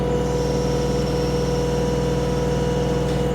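A 2021 Kioti DK4210 HST compact tractor with a loader and backhoe runs its engine steadily at about 2,000 RPM, just over half throttle, a loud, even, close rumbling drone with a low hum and no speech.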